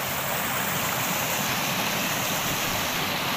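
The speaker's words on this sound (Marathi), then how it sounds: "कसं बघा इथनं वगळीतून धडा धडा पाणी पडतं आहे." Rainwater gushes from a gully down a small waterfall near a house during heavy rain. It makes a constant, dense roar of splashing water with no talk.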